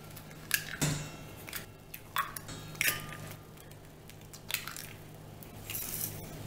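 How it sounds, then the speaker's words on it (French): Eggs cracked one after another into a bowl for a savory zucchini cake batter with blue cheese and Comté: sharp, close shell cracks and crunchy crumbling taps, with a low steady hum underneath and no talking. "On va casser les œufs."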